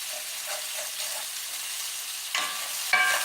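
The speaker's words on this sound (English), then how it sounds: "Give this a little stir." Low-carb food with spices sizzles in a Lodge No. 14 cast iron skillet, a soft steady frying hiss with a few stirring scrapes and clinks near the end.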